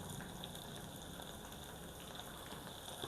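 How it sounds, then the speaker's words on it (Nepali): Chicken frying in a pan with two large chopped onions just added gives a steady, soft sizzle and crackle that stays even throughout, with no talking. "यो चिकन यतिको फ्राई भइसकेपछि म चाहिँ 2 वटा ठुलो काटेर राखेको प्याज राख्दै छु।"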